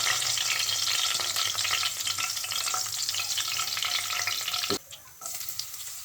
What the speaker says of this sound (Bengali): একটা প্যানে সামান্য পরিমাণ সাদা তেল দিয়ে তাতে তেজপাতা সাদা এলাচ দারুচিনি এবং কালো এলাচ দিয়ে ফোড়ন দিয়ে দিতে হবে